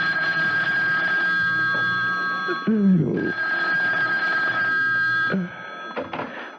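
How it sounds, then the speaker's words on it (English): An old-style telephone bell rings in two long bursts with a short gap between them, loud and close, followed by a brief final ring as it stops. "A couple of hours later, the phone rang."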